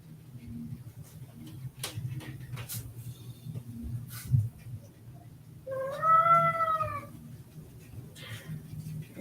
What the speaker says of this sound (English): this was my cat